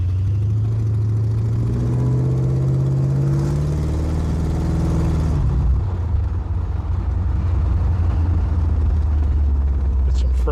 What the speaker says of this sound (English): Power steering is squealing a little bit.